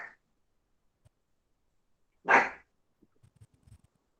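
A small pet dog lets out a single sharp bark at close range, followed by faint sniffing and breathy rustles in an otherwise quiet room.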